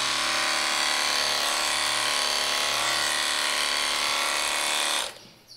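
Electric horse clippers buzz steadily and loudly, running close against a horse's coat against the direction of the hair for about five seconds, then cutting off abruptly near the end.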